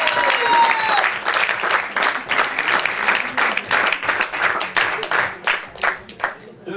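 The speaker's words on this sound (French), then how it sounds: "Applaudissez David." An audience at a Paris poetry slam applauds loudly, with dense clapping that stays steady for a few seconds and then breaks into rhythmic bursts.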